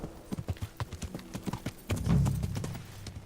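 Horse hooves clip-clopping in steady rhythmic steps in the medieval game Kingdom Come: Deliverance, close and clear, followed by a louder low rumbling snort or whinny partway through.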